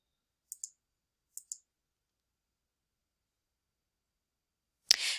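Two pairs of crisp, quiet mouse clicks in an otherwise silent room, followed by a brief louder burst near the end.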